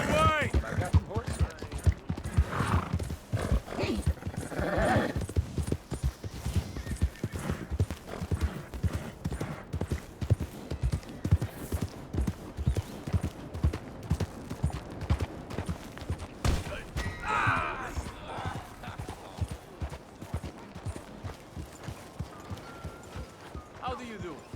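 Rapid clip-clop of galloping horses in Red Dead Redemption 2 runs throughout, steady and driving, with voices talking and shouting over it and an occasional whinny.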